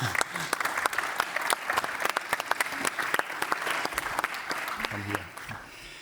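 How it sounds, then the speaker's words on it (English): Conference audience at a lighting industry event applauds with a full, steady clatter of many hands, moderately distant, with a few sharper close claps and faint talk near the end. "You're also allowed to give a big hand of applause."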